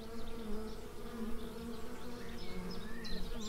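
Steady, dense buzzing of many honey bees close by at a homemade Flow Hive, a continuous droning hum with individual bees whizzing past.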